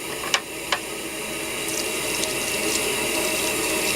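Tap water runs steadily into a sink in a workshop, a continuous even hiss with a couple of brief clicks near the start.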